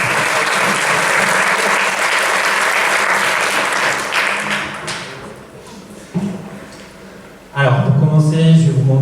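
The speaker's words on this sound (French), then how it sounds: "Je pense qu'on peut les applaudir." A conference audience at TBS applauds during an HR talk on employer branding. The clapping is loud for several seconds, then thins and fades out, and a voice starts speaking near the end.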